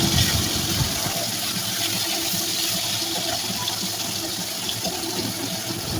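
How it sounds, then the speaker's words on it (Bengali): Rohu fish pieces rubbed with salt and turmeric fry in hot oil, giving a loud, close, steady sizzling hiss that holds unbroken throughout. "এখন মাছগুলো ভাজি করে নেবো"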